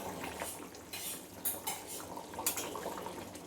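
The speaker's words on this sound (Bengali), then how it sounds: "এবার ঢাকনাটা খুলে দেখি আমার কতখানি এটা হয়ে এসছে" Pot lid lifted during rice cooking, light metallic clinks and scrapes of the lid and utensils over a faint simmering background.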